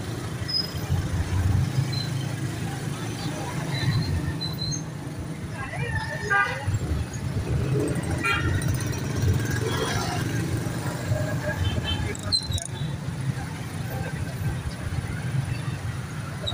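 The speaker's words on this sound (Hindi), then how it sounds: "ट्रैफिक बहुत है जनाब इस" Heavy city traffic in Jhelum with car horns tooting now and then over a steady roar of engines, and voices talking throughout.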